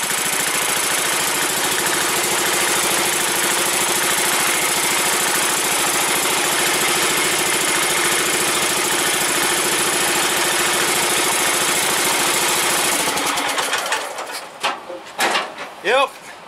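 An early Kohler K-series single-cylinder engine idles steadily after a cold start, a loud continuous chugging drone that suddenly cuts off near the end, leaving a few faint knocks and clatters.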